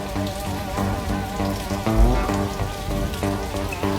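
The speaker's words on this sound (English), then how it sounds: "Headlights in the rain." Rain falling steadily with a soft continuous patter, mixed with a sustained tonal musical background and a brief low thump near the middle.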